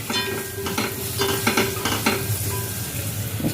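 Onions and cashews fry in a pan for mutton curry with a close, steady sizzle, broken by several scraping stirs of a utensil across the pan.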